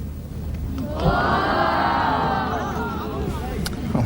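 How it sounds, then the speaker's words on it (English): Golf gallery around the 18th green at the 1988 Lancome Trophy reacting to Greg Norman's birdie putt, a low murmuring sigh swelling into a loud sustained cheer and applause, with a commentator speaking over it. "Of the sighing crowd there. There they cheer"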